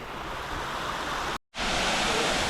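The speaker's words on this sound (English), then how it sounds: "here we are at the lower waterfall of Montezuma" Dense, continuous rushing water of the lower Montezuma waterfall in Costa Rica roars loudly and evenly, cutting out abruptly for a split second before surging back at full strength.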